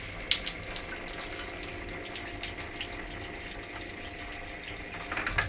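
A high-tech toilet bidet sprays water in a steady hissing stream, close and continuous for several seconds with small splashy bursts, no talking over it.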